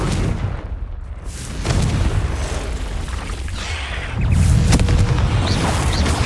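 A Confringo fire spell bursts in the Hogwarts Legacy video game, deep booming blasts with crackling debris that build in two waves of loud rumble, with no talk over it.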